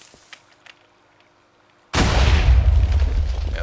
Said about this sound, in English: If the TNT explodes in the water and the lamp turns on just before the TNT explodes, your cannon will be alright.